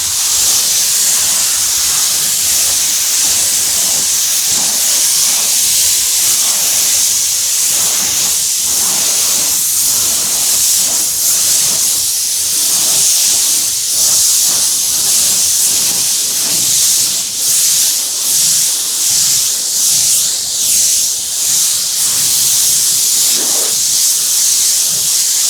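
A continuous loud hiss of a high-pressure water spray rinsing a GMC Yukon Denali, steady and close, running without pause for the whole stretch.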